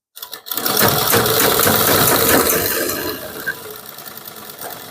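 A sewing machine stitches around kurti fabric, a close rapid mechanical whirr that runs steadily for several seconds before easing off, with no talking.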